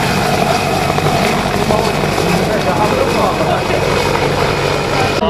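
Helicopter at an aeroclub near Minsk, its rotor and engine a loud, close, continuous throbbing roar, with a voice talking faintly beneath it.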